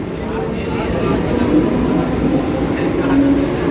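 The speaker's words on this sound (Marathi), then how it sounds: "गाडी निघाली डोंबिवली स्टेशनवरून" A Mumbai local train departing Dombivli station rumbles steadily at close range, a low continuous roar with faint rail clatter and squeal.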